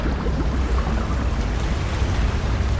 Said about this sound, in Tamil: தண்ணியை ஃபுல்லாக அப்படியே சக் பண்ணி கீழே இழுக்குது.